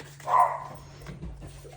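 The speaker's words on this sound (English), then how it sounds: "Oops, puppies are barking over something." A puppy gives one short yappy bark in a room, followed by faint softer sounds and a low background hum.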